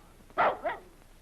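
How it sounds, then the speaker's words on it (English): A dog barks twice in quick succession, fairly close and clear, over a quiet background. "Baby, you bad dog!"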